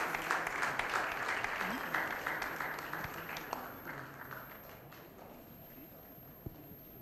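Audience applause at a press conference on colorectal cancer rolls on steadily, then thins and fades toward the end, leaving scattered claps and faint murmuring voices in the room.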